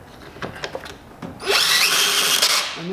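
A cordless power drill driving screws into a Jeep Cherokee heater box, soft clicks and handling noises first, then a loud whirring burst of about a second that stops abruptly.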